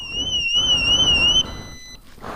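A piercing electronic motorcycle alarm wails in a steady two-tone pattern, loud and close, then abruptly cuts out, leaving quieter background noise.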